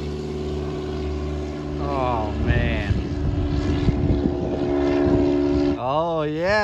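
A modified Carbon Cub small propeller plane's engine drones steadily and builds in strength during a short takeoff, with a rising, wavering whine as the aircraft pulls upward.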